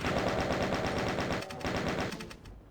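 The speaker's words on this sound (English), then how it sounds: "with the chain gun, I think will be sufficient." Rapid, steady chain gun fire from the classic DOOM video game, loud continuous bursts of gunshots that rattle on for over two seconds before tapering off at the end.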